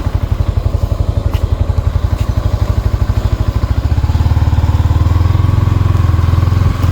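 Motorbike engine running while riding, a loud, close, rapid pulsing thump that grows heavier and steadier partway through, with no voices.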